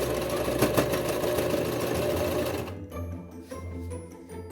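A sewing machine stitching fabric for a bat wrap made for animals rescued from wildfires, running steadily and fairly close up for about three seconds, then slowing into a lower, softer hum.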